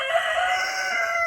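Chickens and a rooster in a backyard coop area, a sustained crowing call heard up close and alone, steady and fairly loud for about a second.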